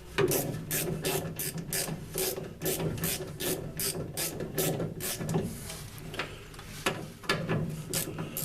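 A ratchet wrench turns bolts while an Austin A35 front suspension is being refitted, giving a long run of rapid, regular clicking bursts, close and steady, with no talk.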